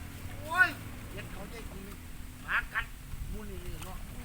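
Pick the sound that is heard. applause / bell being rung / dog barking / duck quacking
duck quacking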